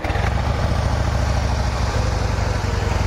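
A Harley-Davidson Heritage Softail FLSTC sits idling nearby, its engine giving a loud, deep, loping rumble with a steady uneven pulse that holds without a break throughout.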